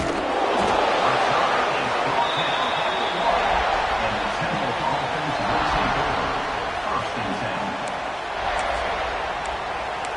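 Football crowd at a college stadium, a broad sustained roar of many voices that swells and eases slightly, heard from within the stands with no single voice standing out.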